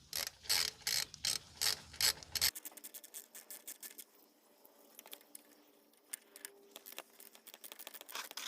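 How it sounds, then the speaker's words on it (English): Ratchet removing the three nuts from the exhaust valve actuator cover on a Suzuki GSX-R motorcycle: a fast, loud run of clicks for about two seconds, then quieter, scattered clicking and light scraping that continues close by. "Next, you're going to remove the 3 nuts holding the cover onto the actuator."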